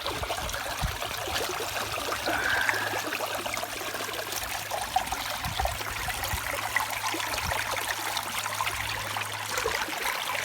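Creek water runs in a steady, close wash of trickling and gurgling on a mountain hike near Mount Pleasant and Cole Mountain, with no voices over it.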